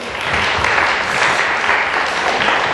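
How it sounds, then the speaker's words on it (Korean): A church congregation at a Korean youth group devotional service breaks into loud, dense applause, an even wash of clapping from many hands that fills the room with no speech over it. "우리 그 헌신 예배 주관하는 우리 나인순에게 우리 박수 한번 쳐드릴까요?"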